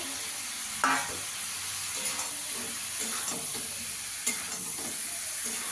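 Cauliflower, potato and egg fry and get stirred in a pan, a steady close sizzle with scattered scraping clicks of the spoon against the pan throughout.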